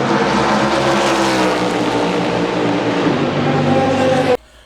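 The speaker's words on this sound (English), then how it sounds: "people have been calling this thing Le Monster because it sounds like a German V1 bomb from World War II" A NASCAR stock car racing at the 24 Hours of Le Mans 2023, its loud engine a steady, harsh droning roar with a pulsing buzz, holding close and constant before cutting off abruptly near the end.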